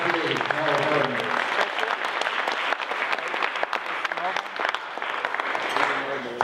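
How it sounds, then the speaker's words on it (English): An audience applauds steadily and loudly through the whole stretch at a 75th anniversary gathering of a Texas fraternity chapter, with a voice heard under the clapping. "another round of applause for Mr. Gamma D, Harold Bergman."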